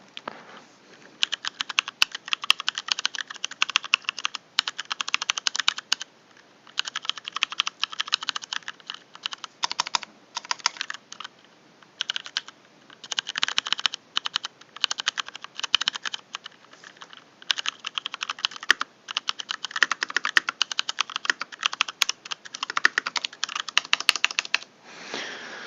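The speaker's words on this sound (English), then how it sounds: "I like the sound of these keycaps." Continuous mechanical keyboard typing on a Varmilo VA88M, with a steady run of clicky keystrokes in bursts separated by brief pauses, close and fairly loud with no talking.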